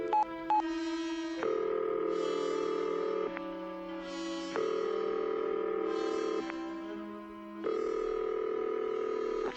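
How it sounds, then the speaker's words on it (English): A telephone in an old-time radio drama is dialed and rings, a sequence of loud, steady electronic tones shifting in pitch every second or two, with no speech. "Let me use the phone."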